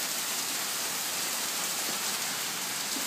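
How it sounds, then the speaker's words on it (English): Hail falls steadily at Val Vista Lakes, a dense, continuous hiss of ice pellets striking surfaces that holds at an even level throughout, with no voices. "it's hailing."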